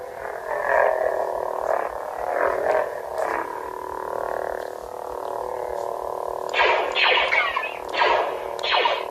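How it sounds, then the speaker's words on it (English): Star Wars Imperial blaster effects from a toy: warbling, echo-laden electronic zaps that pulse and repeat, heavily distorted, with sharper bursting shots near the end, loud and close. "That's the Imperial Blasters, if you know your sound effects."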